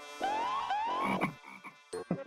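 Baby frogs in a comedy TV show give a quick series of close, tonal croaks, a few longer rising calls followed by shorter choppy ones.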